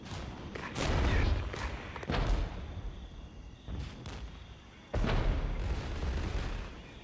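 An artillery strike in the strategy game Regiments: a series of heavy booming impacts, four or so loud blasts spaced a second or two apart, each trailing off into a rumbling tail.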